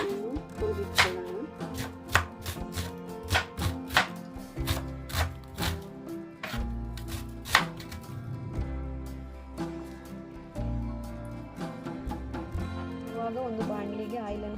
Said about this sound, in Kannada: ಇವಾಗ ಇದಕ್ಕೆ ಬೇಕಾದಂಥ ಈರುಳ್ಳಿ, ಟೊಮೆಟೊ, ಹಸಿಮೆಣಸಿನಕಾಯಿಯನ್ನು ಸಣ್ಣದಾಗಿ ಕಟ್ ಮಾಡಿಕೊಳ್ಳೋಣ.